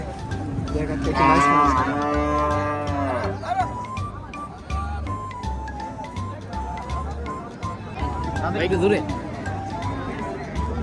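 A cow at a crowded traditional cattle market in Brahmanbaria gives a loud, drawn-out moo nearby, then a second shorter one, amid a busy murmur of people talking.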